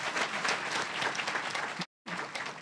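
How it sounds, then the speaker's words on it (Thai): An audience at a business talk claps for itself in a dense, steady burst of applause, broken by a brief complete dropout before the clapping resumes. "ปรบมือให้ตัวเองนิดนึงดังดังเลยค่ะ"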